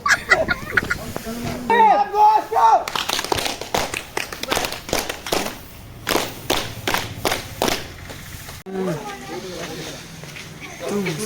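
A group at an NSS winter camp at P.S. College Jhumpura claps in bursts after chanting slogans. Rapid, uneven handclaps come in several waves, with voices shouting between and over them.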